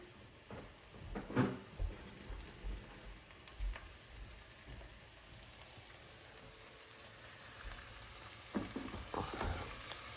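Ground beef fries in a pan along with bacon and sausage, a low sizzle broken by scraping stirs and a few clattering knocks against the pan, no voices.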